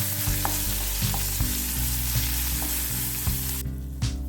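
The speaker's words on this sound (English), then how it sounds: "Stir well." A tempering for raw mango dal is stirred in a hot pan, with a continuous sizzle under a series of regular spoon scrapes and taps about every half second. The sizzle fades near the end.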